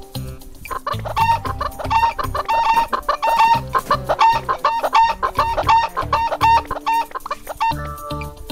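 Cartoonish chickens cluck busily in the farm game Farm Frenzy Heave Ho, a dense, loud run of repeated clucks over a rhythmic game-music bed, with no talking.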